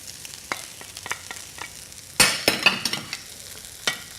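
Sweet potato, carrots, garlic and red lentils tipped into a hot pot for lentil dahl, giving a steady sizzle with scattered clicks of stirring and a louder burst of clattering additions midway, no talk.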